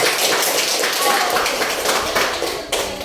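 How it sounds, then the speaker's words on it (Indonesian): Students in a primary school classroom clap together in a loud, dense burst that thins out near the end, with voices mixed in. "Ya, bagus, tepuk tangan"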